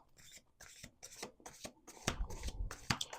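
A deck of tarot cards is shuffled by hand in quick riffling bursts with brief pauses between, close and crisp, the flurry growing louder and denser toward the end, with no talking.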